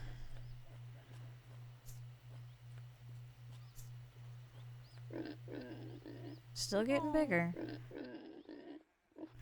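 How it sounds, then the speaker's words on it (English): Pigs grunt and oink in short bursts over a pulsing low hum, while a person talks nearby. "We got our little pigs."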